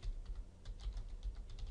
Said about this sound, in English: and now I type in my directory